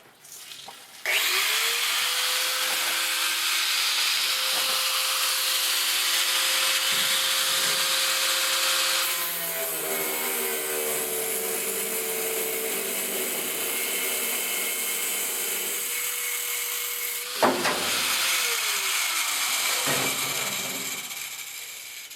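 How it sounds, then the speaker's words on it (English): A power saw blade cuts into the sheet-metal body of a Chevy K20 truck, a loud sustained whining buzz with a steady pitch that pauses briefly near the middle and again near the end, heard alone. "these Walmart blades actually cut a lot better than the blades I got from Harbor Freight and the blades I got from Home Depot"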